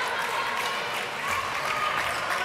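Crowd in a women's handball arena applauding a saved penalty, steady dense clapping from the stands throughout, with no distinct voices over it.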